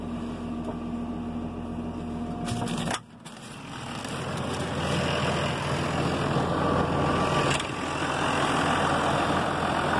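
A Renault Ares 656 RZ tractor from 2004 idles with a steady low, even engine hum and a faint whine, dipping briefly once before settling back to a constant drone.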